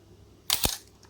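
Praktica LTL3 film camera shutter firing at a longer shutter speed, a close mechanical snap of opening followed a fraction of a second later by the closing clack, two sharp clicks alone.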